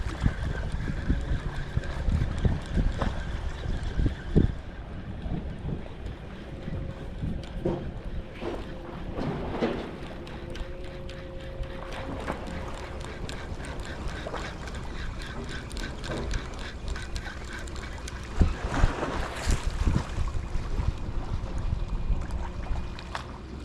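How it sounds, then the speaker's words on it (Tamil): Strong wind buffets a microphone on a fishing jetty, a continuous rumbling gusty roar with occasional louder blasts and faint water and background sounds beneath. "காற்று அடிக்குதுண்ணா"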